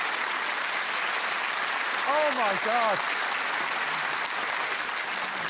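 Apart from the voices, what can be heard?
studio audience applause for Jamie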